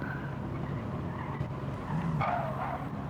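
Race car in a racing game spinning out after running wide through a corner, a continuous engine drone with rising tyre squeal and skidding, close and fairly loud, with no talk.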